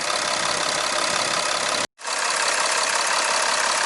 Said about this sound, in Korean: 지금 엔진 소리는 되게 차분하니 좋습니다